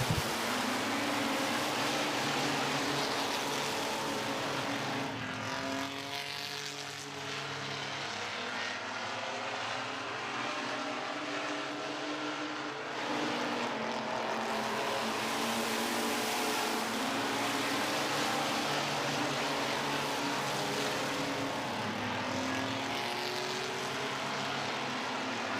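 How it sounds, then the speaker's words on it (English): Race trucks roaring around a short oval track in a feature race, a continuous loud, droning engine wash that rises and falls slightly as the pack passes, heard alone with no talk. "here comes Eddie McLean in that 443 truck."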